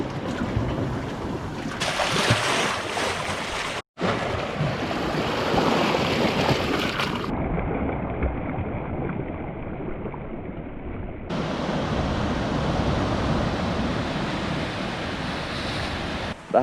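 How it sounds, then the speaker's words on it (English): Ocean waves roar and crash steadily against a rocky peninsula on the Big Sur coast, a loud, continuous wash of surf with wind buffeting the microphone and abrupt shifts in tone partway through. "We walked out on a rocky peninsula where the waves roared,"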